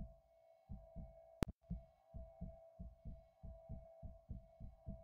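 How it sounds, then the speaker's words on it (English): Heartbeat sound effect from the horror video game Until Dawn: a steady run of paired low thumps, about a dozen beats over a sustained electronic hum, interrupted once by a sharp click. "Is it going to do this heartbeat every single time we have to do a don't nice move?"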